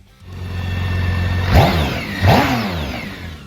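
A BMW K1600 GTL touring motorcycle idles steadily, then its engine is revved in two quick, loud throttle blips that rise and fall back to idle, heard close with no voices.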